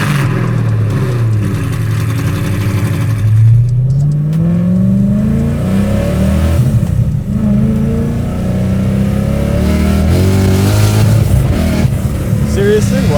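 Repeated loud revs from a supercharged V8 swapped into a BMW E30, the pitch sweeping up and falling back several times over a throaty idle, close by, with voices talking over it.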